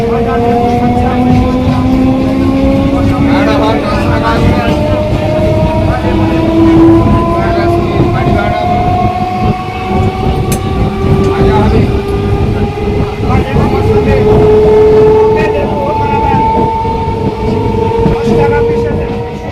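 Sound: Goghat local train running past Nalikul

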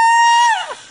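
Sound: person screaming loudly on request

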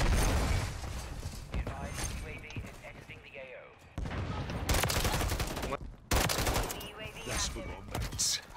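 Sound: gunfire in video game Modern Warfare 3

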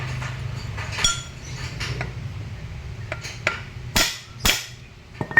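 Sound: hammering a metal part during Ford Everest repair

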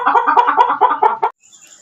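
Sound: country chickens clucking

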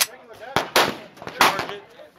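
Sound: 9mm magazine inserted into Beretta pistol in RONI carbine kit

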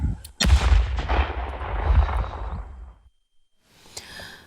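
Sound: explosion

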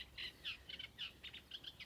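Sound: small bird chirping outdoors

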